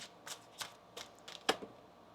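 Tarot deck being shuffled by hand: about six crisp, papery riffles at a steady pace, close and clear, with quiet gaps between each.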